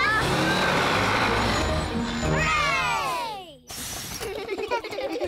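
Cartoon bus engine straining loudly up a steep mountain road, a continuous close roar with sweeping tones that fades, cuts off, then resumes rougher.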